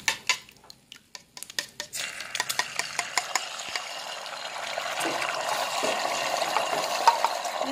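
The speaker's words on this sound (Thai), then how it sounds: "น้ำมันฮ้อนแล้วนะคะเฮาก็จะเอาไข่ลงนะคะ" Beaten egg mixed with minced pork poured into hot oil in a small electric pan, starting with scattered clinks and taps, then a steady crackling sizzle that builds and holds.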